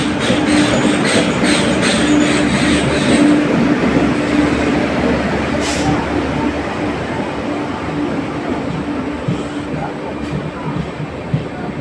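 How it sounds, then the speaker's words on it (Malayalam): Vivek Express train rolling through platform two at Chengannur station, a loud continuous rumble of wheels and carriages with rhythmic clatter close by, steady throughout with a faint high squeal at times. "വിവേക് എക്സ്പ്രസ് ആ രണ്ടാമത്തെ പ്ലാറ്റ്ഫോമിൽ കൂടെ പോവുകയാണ്"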